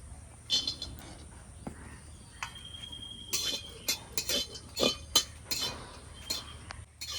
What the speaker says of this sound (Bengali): এবার কাঠ খোলায় কাজু গুলো ভেজে নেব